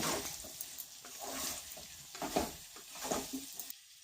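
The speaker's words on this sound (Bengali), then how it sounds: "ভালো করে মাংস আর সবজি মিশিয়ে নিচ্ছি" Chilli chicken pieces and vegetables are stirred and tossed in a pan, a soft sizzle running underneath as a utensil scrapes and turns them in irregular bursts, close and moderately quiet, with no talking.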